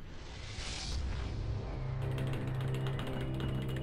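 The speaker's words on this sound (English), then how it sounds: "that's the sound of me hitting the escape button" Menu sound from the space strategy game Homeworld Remastered, triggered by pressing escape: a quiet mechanical ratcheting whir that shifts into a steadier pulsing hum partway through.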